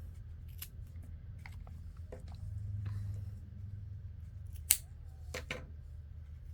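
Scissors trimming paper on a large tea-bag full-page journal spread, a few quiet isolated snips over a low background hum, with two sharper cuts near the end.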